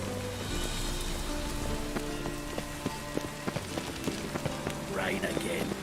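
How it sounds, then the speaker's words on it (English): Rain falls steadily in the video game The Witcher 3, a dense constant patter with sharp individual drops ticking on surfaces, loud and close under low ambient rumble. "Rain again."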